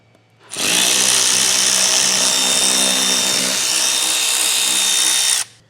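A power driver buzzes loudly and steadily for about five seconds, removing screws from the front fascia of a 2023 Jeep Grand Cherokee, then stops abruptly, with no talking.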